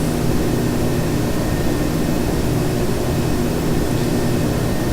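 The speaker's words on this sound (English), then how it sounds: "And now we can go to full throttle" Q400 turboprop engines at full throttle in the Flightgear simulator give a loud, steady roar with a thick, unvarying drone and no breaks or voices.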